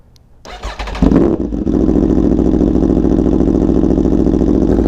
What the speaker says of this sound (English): how about a cold startup on a 2017 Aprilia Tuono V4 factory with an SC Project exhaust